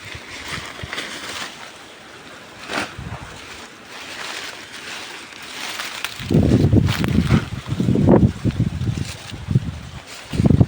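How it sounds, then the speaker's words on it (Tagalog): Wind gusts buffet the microphone outdoors, starting soft and then growing into strong, rumbling bursts toward the end. "Hangin."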